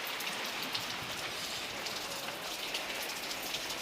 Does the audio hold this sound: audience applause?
no